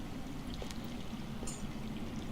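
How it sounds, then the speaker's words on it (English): Steady underground water flowing and trickling in a Game of Thrones video game scene, a continuous low wash with faint drips, moderately quiet, no talking. "That's water. I hear water. From underground."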